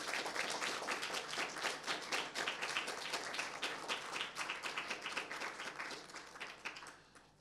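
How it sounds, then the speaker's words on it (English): An award ceremony audience at a student film festival applauds, with dense, steady clapping from many hands that holds for several seconds and then thins out and fades toward the end, heard from some distance in a hall. "big applause for them"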